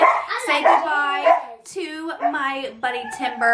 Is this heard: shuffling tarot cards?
no